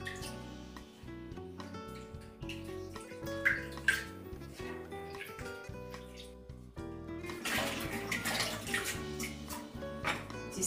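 Water splashes and sloshes as cactus is washed by hand, growing louder and rougher toward the end, with steady background music playing throughout.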